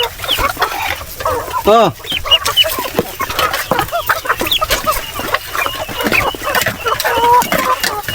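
Chickens on a farm cluck and squawk in a busy, close chorus, with one rising call near the start, while a person briefly exclaims.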